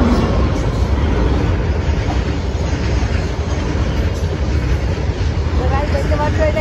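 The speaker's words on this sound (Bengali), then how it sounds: "চলে আসছে দেখো ট্রেন একটা।" An approaching freight train on a rail line, heard as a continuous loud rumble and roar with no clear gaps, captured close to the tracks.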